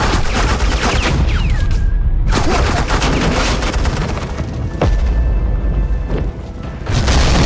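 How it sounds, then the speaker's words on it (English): Dense suppressing gunfire from the video game Batman: The Enemy Within fills the clip, a loud continuous barrage of rapid shots and booming impacts with brief lulls and a few whizzing sweeps. "suppressing fire."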